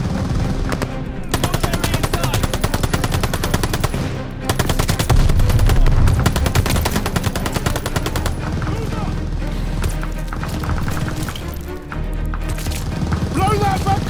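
Machine gun fire in Call of Duty: Vanguard on PS5, a loud, dense, near-continuous rattle of rapid bursts with other gunfire and booms layered in, while voices shout over the battle.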